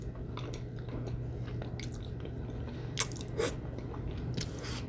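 Wendy's loaded chili cheese fries are eaten close to the mic, with soft, wet chewing and a few crunchy bites over a quiet steady hum.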